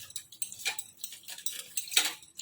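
Curd whisked in a bowl for bottle gourd raita gives a quick run of light scraping and tapping strokes, close by and steady, with no talk.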